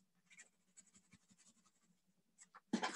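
Pencil lightly shading on watercolor paper while drawing a cat, soft dry scratchy strokes in a quick rhythmic series, close and quiet, ending in a louder brief scrape.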